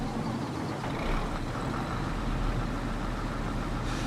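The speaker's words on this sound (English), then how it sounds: "So if I turn on the engine now." A tractor engine in the farming game Farming Simulator 22 starting up and settling into a steady, loud, low rumbling idle that continues without pause.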